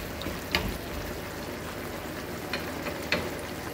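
Food fries steadily in a pan in a home kitchen, a soft continuous sizzle with a few sharper clicks and spatters, close and alone with no talk.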